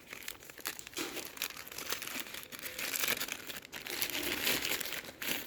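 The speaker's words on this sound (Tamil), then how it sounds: "இப்போ இந்த கவரில் என்னெல்லாம் இருக்குன்னு பிரித்து வெளியே எடுத்து வச்சிடலாம்" A plastic cover holding fabric conditioner ingredients is torn open and its items pulled out, giving continuous close crinkling and rustling of plastic from start to finish.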